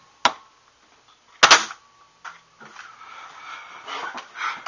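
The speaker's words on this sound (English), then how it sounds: "So here's it firing." A Fire Manta toy dart blaster fires with a few sharp, snappy pops, one of them a quick double, followed by softer rustling and handling noise at close range.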